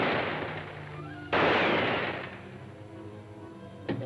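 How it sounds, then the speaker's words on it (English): A pistol fires two sharp, reverberant shots about two and a half seconds apart, the first followed by a decaying echo, over a quiet background hum. "You fired 3 shots at Blenker and 2 at me."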